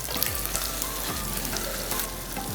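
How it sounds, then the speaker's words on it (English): A Korean pancake crisps in an oiled pan, a loud continuous sizzle with crackling pops and a couple of low thuds from the pan or spatula, heard alone without speech. "Cook 3 to 4 minutes until bottom of the pancake turns crispy and golden brown."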